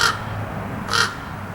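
A raven gives two loud, close caws, one at the start and one about a second later, with quiet room tone between them.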